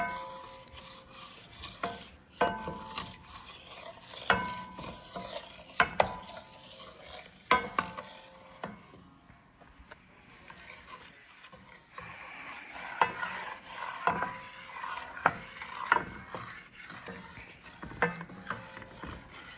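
A spoon scraping and knocking around a pot of darkening roux for gravy, irregular rhythmic stirring strokes with faint sizzling underneath, close and unaccompanied by speech.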